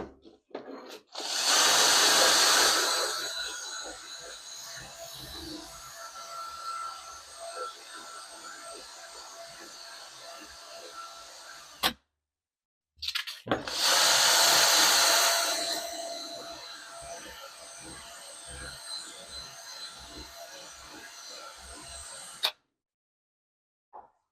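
Power drill fitted with a pin to sharpen it for a homemade lithium cell spot welder, running in two steady whining bursts, each starting with a louder surge and stopping abruptly, close and loud, with no talking.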